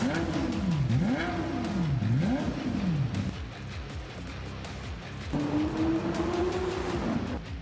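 A Lexus LFA 4.8-liter V10 engine revs hard, its pitch rising and falling in repeated sweeps, then holds a high steady whine after a brief lower rumble; loud and close.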